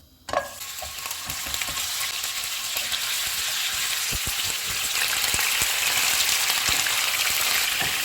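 Mutton pieces dropped into hot oil with whole spices in a pan, a sudden burst of loud sizzling that settles into a steady, close frying hiss with occasional stirring and crackle.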